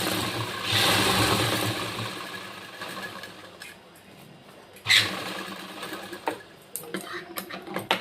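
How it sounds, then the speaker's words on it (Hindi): A sewing machine stitches an embroidered blouse in a close, whirring run that fades after a couple of seconds, followed by scattered ticks, taps and handling noises. "लगभग एक पैर की सिलाई छोड़ करके हम दूसरी सिलाई लगा लेंगे।"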